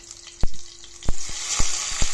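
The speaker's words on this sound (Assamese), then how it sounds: "এইফালে মই পিয়াজখিনি দি আছো এতিয়া" Chopped onions drop into hot oil with cumin seeds in a pan while a bottle gourd fry is being made, giving a steady close sizzling hiss broken by about five sharp crackling pops as pieces land. No one speaks.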